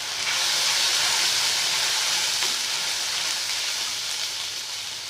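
Curry leaves sizzle in hot oil for a veg curry, giving a continuous close, bright hissing crackle that stays steady throughout with no voices.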